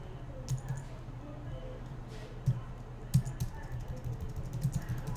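Light, close typing on a computer keyboard at an office desk, soft irregular key clicks with a few firmer taps over a quiet room background.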